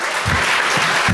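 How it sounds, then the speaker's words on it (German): A live audience bursts into applause at a talk event: a short, dense clatter of clapping hands, loud and close, with no pauses. "einen Applaus bitte für meine Mama"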